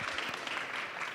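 An audience at a pre-State of the Union panel discussion with Rep. Waters gives a short round of steady applause. The clapping is fairly soft and sounds a little distant.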